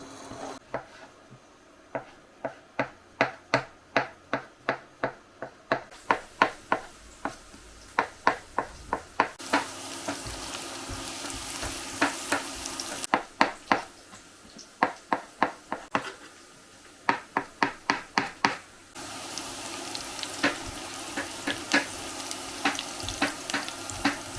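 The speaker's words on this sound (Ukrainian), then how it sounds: "я наріжу гриби" A kitchen knife chops mushrooms on a board in quick rhythmic runs of crisp strikes, pausing between bursts, while onion sizzles softly in hot oil in a pan nearby.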